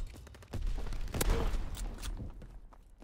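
A shotgun fires in a first-person video game, giving heavy booming blasts in a cluster amid other gunfire and game noise, with low muffled rumble underneath.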